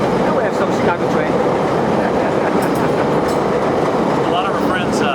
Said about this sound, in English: we have some Chicago train.